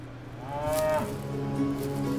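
Cattle mooing in a single long, loud, drawn-out low call, with a steady hum of background noise beneath it.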